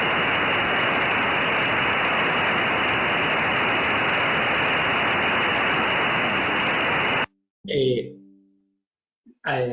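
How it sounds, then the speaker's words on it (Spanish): White noise played as a demonstration example, a loud, flat, continuous hiss holding steady for about seven seconds before cutting off abruptly, followed by brief breaths and mouth sounds. "vamos a empezar con el ruido blanco"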